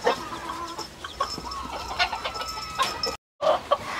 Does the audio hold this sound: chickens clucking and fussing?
yes